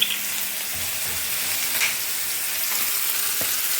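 Saffron milk cap mushrooms fry over a low flame, giving off a soft, continuous close sizzle and crackle with an occasional small pop.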